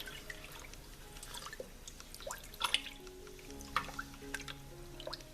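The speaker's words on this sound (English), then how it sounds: "take each piece of fabric and open it up and drop it in there. Stir it around good." Wool fabric stirred by hand in a liquid dye bath makes soft sloshing, dripping and squishing sounds, faint and close, with scattered small splashes and no talk.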